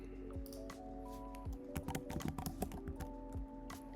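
Quiet, close keystrokes on a computer keyboard, irregular clicks in short bursts over a faint steady electronic hum, with no speech.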